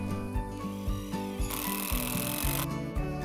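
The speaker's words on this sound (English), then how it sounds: "to fasten these boards down, we are now going to use 3-inch decking screws, galvanized" A power driver sinks galvanized 3-inch decking screws into wooden boards on a floating nesting platform, giving repeated close, loud whirring bursts with ratcheting clicks.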